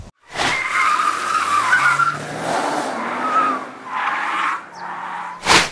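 An MG ZS, a 2023 model, weaves through a slalom test with repeated tire squeal and skidding, its engine revving beneath, the squeals coming in several surges of varying loudness.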